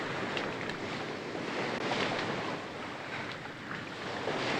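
Sea waves wash steadily against the shore with a constant, moderately loud hiss of surf and wind, without speech.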